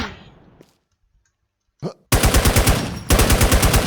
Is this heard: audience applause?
no